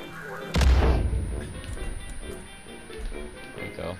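A single loud firework boom bursts out in Far Cry 5, then trails into a rumbling, crackling tail amid faint game background sounds.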